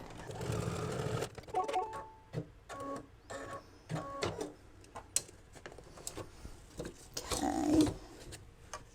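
Embroidery machine stitching an in-the-hoop mug rug, with bursts of rapid mechanical needle chatter broken by pauses, clicks and handling noises, close and moderately loud, without talking.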